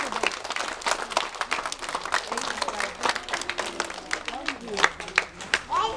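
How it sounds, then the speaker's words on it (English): A church congregation claps together at a school building dedication service, a dense ragged patter of many hands that runs steadily throughout, with a voice speaking over it. "Let us give God a clap to that."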